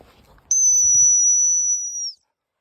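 A dog-training sit whistle gives one sharp, sustained high-pitched blast lasting about a second and a half, loud and near, after faint outdoor rustling.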